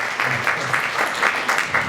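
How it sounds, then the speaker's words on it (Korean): An audience applauds to welcome a speaker at a seminar, a steady wash of many hands clapping at close range for a brief moment. "성북신나의 오창민 사무국장을 큰 박수로 환영해주세요."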